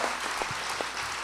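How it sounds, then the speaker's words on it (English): An audience at a 2014 celebration event claps for a man just introduced, giving a brief burst of dense, steady applause heard at a moderate distance with a few sharper claps standing out. "let's give a hand of applause for this guy"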